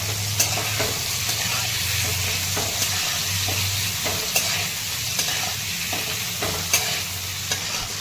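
Bitter gourd sautés with coriander powder in a pan under a constant sizzling hiss, while light, evenly spaced spatula taps and scrapes punctuate it at close range, with no voices.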